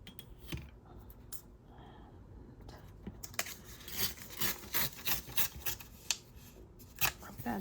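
Paper rubbed down by hand while crafting a steampunk journal, a quiet scratchy rasping that turns into rhythmic back-and-forth strokes in the second half, close and without talk.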